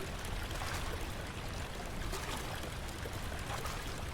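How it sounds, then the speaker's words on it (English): Steady hiss and trickle of water leaking from a loose, busted pipe in Amnesia: The Dark Descent, a faint, continuous rushing flow with no pauses or voices. "One pipe is loose and leaking water."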